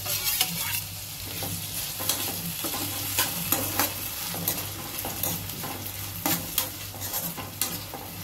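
Tomatoes sizzle and fry in a pan with golden-browned onion and garlic for kaju palak masala, while a spoon stirs them in steady scraping strokes under a continuous crackling hiss.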